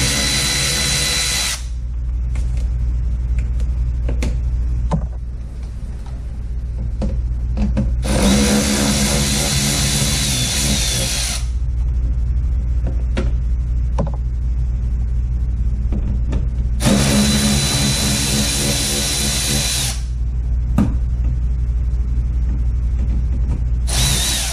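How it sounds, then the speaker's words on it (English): A power drill with an extension spins out 7mm bumper cover bolts on a 2005 Chevy Corvette, three loud whirring bursts of several seconds each separated by quieter gaps with small clicks and rattles. "got an extension, and just take these 7mm bolts out"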